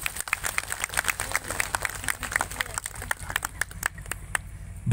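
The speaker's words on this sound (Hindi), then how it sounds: "उनके लिए जोरदार तालियां हो जाए।" An audience claps for government teachers at a gathering, with a loose run of sharp individual claps at uneven intervals and a faint voice under them.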